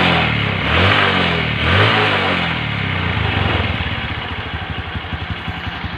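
A Honda Blade motorcycle engine idles right after the ignition is switched on, with a couple of short blips early on before it settles into a steady, close, fairly loud putter with no talk.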